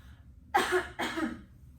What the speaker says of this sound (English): a good practice is just to cough into your elbow